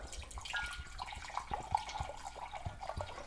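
Alcohol pours in a thin trickle while making homemade bitters, with soft gurgles and a few small drip-like plinks, quiet and close.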